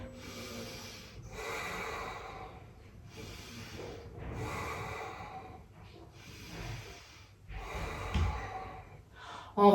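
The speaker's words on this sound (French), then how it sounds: "Essaie de respirer que par le nez." Slow, deep nasal breathing during a yoga flow: about five long inhale-exhale cycles, close and breathy, with no talk over them.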